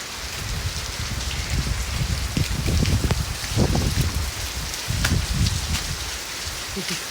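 Steady rain falling on an island five days after the Mt. Kanlaon eruption, a dense close patter of drops on surfaces with occasional heavier bursts, continuous throughout.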